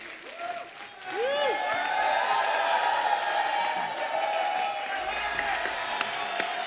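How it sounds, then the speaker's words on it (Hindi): Studio audience on The Kapil Sharma Show bursts into loud sustained applause and cheering for the arriving guests, building after a second and continuing to the end, with a host's voice and music tones over it. "एक बार जोरदार तालियां हमारे मेहमानों के लिए।"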